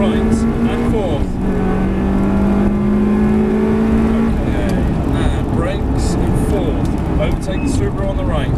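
Ferrari 360 Spider engine on a race track, revving and accelerating hard with rising pitch from inside the car, loud and continuous, with an instructor talking over it.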